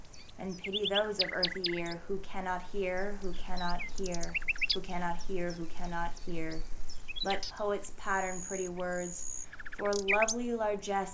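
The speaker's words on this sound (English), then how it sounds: "Bless you, birds." Small birds chirp and tweet in short, high bursts behind a man reciting verse in a sing-song voice, their calls mostly buried under his speech and clearest for a moment near the end.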